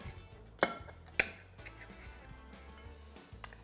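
Two crisp, crunchy cuts through a quesadilla about half a second apart, each a sharp crackle with a knife tapping the plate, over a quiet kitchen background.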